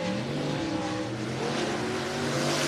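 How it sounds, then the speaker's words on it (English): Race cars circle a speedway oval in Medford, Oregon, their engines droning continuously at moderate distance with overlapping rising and falling tones. "All right, cars on the racetrack."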